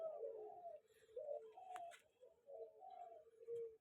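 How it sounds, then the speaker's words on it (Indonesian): Several colored turtle doves at a bird breeder's in Kebumen, Central Java, give soft, repeated rolling coos in a steady rhythm. The calls are close but quiet, with no other sounds. "Ini 3 ekor tekukur warna."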